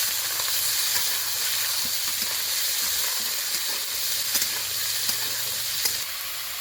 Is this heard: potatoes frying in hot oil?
yes